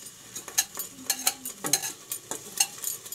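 Dum aloo with turmeric and spices sizzling in a pan while a spoon stirs it, with repeated scraping strokes and a steady soft fry underneath, close and moderately quiet, no talking.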